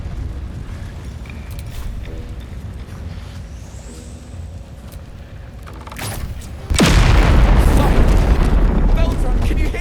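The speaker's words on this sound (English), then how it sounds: "Blast the thing to bits!" A deep, loud explosion erupts in the video game Baldur's Gate 3 after a quieter stretch of ambient noise and faint tones, bursting into a sustained rumbling roar that fills the rest of the clip with no talking.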